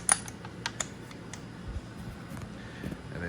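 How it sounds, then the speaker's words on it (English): A ratchet turns a 5/8 spark plug socket on a short extension on a 2022 CFMOTO Adventura 650 motorcycle, giving a few close, sparse clicks over a faint background hum. "then you just ratchet it"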